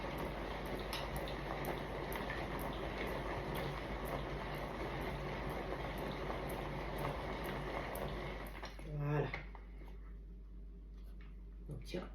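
An electric mixer running at low speed through apple fondant batter, giving a steady whirring churn with faint clicking, then stopping abruptly near the end.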